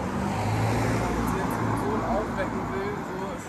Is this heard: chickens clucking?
no